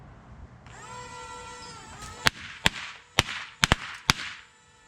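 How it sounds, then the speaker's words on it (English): A Thunder Little Overlord firework gun toy whirs up with a rising motor whine, then fires six sharp snaps in an irregular burst, close and loud over the continuing hum. "full impact with the snaps shooting from the Thunderlord"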